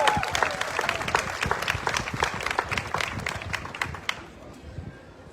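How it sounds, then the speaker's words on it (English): Audience applause honoring a long-serving member at a Red Coat Club presentation during an apple festival, with steady dense clapping that fades after about four seconds. "we're going to give Alan a big round of applause once again, please."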